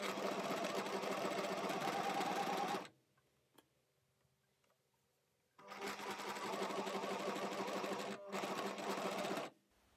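A domestic sewing machine stitches a blouse seam 1 cm from the edge in two close, loud bursts of rapid needle strokes, separated by a quiet pause with a few faint clicks.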